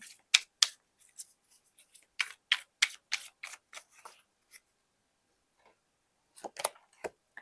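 A tarot card drawn from a deck makes crisp paper snaps and slides. These come as quick clustered flicks, then fall quiet for a couple of seconds before a final short flurry, close and fairly soft.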